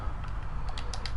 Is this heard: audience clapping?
no